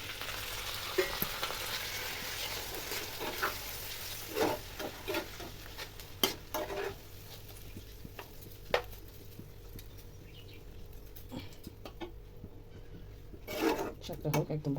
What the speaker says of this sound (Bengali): শাকটা হোক, একদম ভাজা ভাজা করতে হবে।